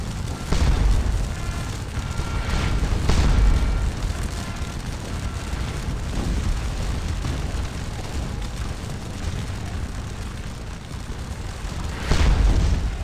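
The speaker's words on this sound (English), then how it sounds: "repelled by the battery firing canister" An artillery battery fires canister at cavalry in the Napoleonic battle game Scourge of War: Waterloo, with heavy booms breaking out at intervals over a constant low rumble of battle, loud and somewhat distant.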